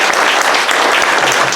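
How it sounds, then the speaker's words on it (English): Loud, thick burst of audience applause for speakers at a community library talk, continuous overlapping claps filling the room with no pauses. "Let's have a round of applause for our speakers."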